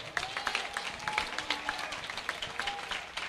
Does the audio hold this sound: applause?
yes